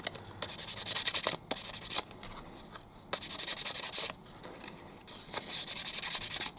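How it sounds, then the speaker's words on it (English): Fine sandpaper rubbed by hand over hard plastic on an RC excavator turntable, quick back-and-forth scratchy strokes in four bursts separated by short pauses, close and crisp. "This is quite fine sandpaper, but it's still going to do the job."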